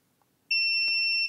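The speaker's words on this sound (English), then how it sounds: "I'm just going to pop the multimeter into continuity mode. All right, so it beeps." Multimeter in continuity mode, used to check filters on a PlayStation 5 board during an HDMI encoder repair, gives one steady high-pitched beep lasting under a second in a quiet room.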